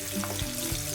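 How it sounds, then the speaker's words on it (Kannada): Peanuts and garlic fry in hot oil with a close, continuous sizzle and small crackles, briefly stirred. "ಶೇಂಗಾ ಬೀಜನ ತೆಗೆದು ಪುಟಾಣಿ ಹುರ್ಕೊಳ್ತಿದ್ದೀನಿ. ನಂತರ ಬೆಳ್ಳುಳ್ಳಿನೂ ಎಣ್ಣೆಲಿ ಹಾಕ್ಕೊಂಡು ಹುರ್ಕೊಂಡು"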